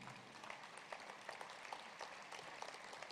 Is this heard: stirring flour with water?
no